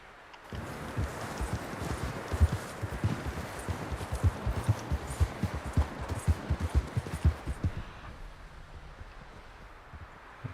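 Steady clip-clop of a white Arabian horse's hooves trotting close by in Red Dead Redemption 2, a rhythmic run of thuds over soft wind and rustling, easing off near the end.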